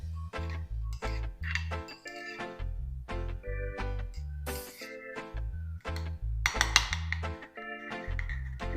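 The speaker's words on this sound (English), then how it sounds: "Then we're just going to give that a little stir" A spoon clinks rhythmically against a bowl while stirring a yeast and honey mixture for ciabatta dough, with close, crisp taps repeating steadily with short pauses.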